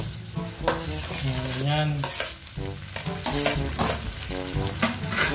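Tomatoes going into a hot, sizzling pan for a Filipino chicken-and-tomato stew, with continuous frying hiss and stirring scrapes; a person speaks briefly over the cooking.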